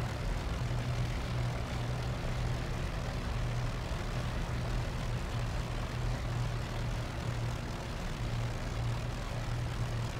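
Spitfire Mk I piston engine idling steadily while taxiing along a main taxiway in Microsoft Flight Simulator, a continuous low propeller drone with a constant throbbing tone and no talk.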